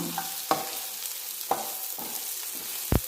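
Prawns cooking with spice masala in a pan for a prawn coconut milk roast, giving a steady close sizzle with several sharp spoon scrapes and clacks against the pan, plus a louder knock near the end.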